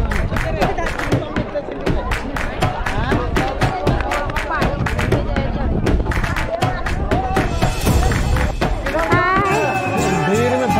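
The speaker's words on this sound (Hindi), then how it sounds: "भीड़ में फंसे हुए हैं" A dense crowd bustles at the Mandar Hill temple, with people talking over one another, irregular footsteps and claps, and constant close, busy hubbub.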